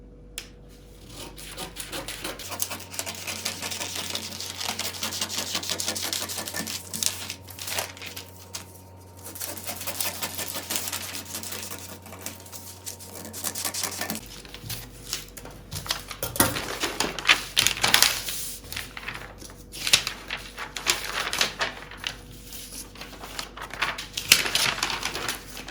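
Scissors slice steadily through fabric while cutting out the front piece of a tube top, a close continuous rasping and snipping with a low hum in the background that drops out partway through.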